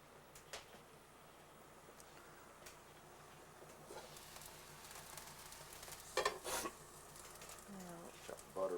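Sauce reducing in a pan on the stove at lunchtime gives a soft, steady sizzle with scattered pops and scraping stirs, louder bursts near the end, while people chat nearby.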